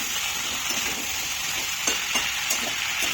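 Food with salt sizzles steadily in a pan, a bright continuous crackle with a few soft clinks of stirring, close and alone.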